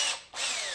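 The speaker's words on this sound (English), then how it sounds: "This process can be done with a hand drill." A hand drill works on a hidden tang clamping jig, taking the threads out bit by bit, giving a steady, loud, high whine that dips briefly before resuming close by.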